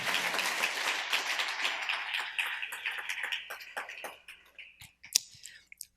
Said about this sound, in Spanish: Dele un aplauso al Rey en esta hermosa y linda oportunidad.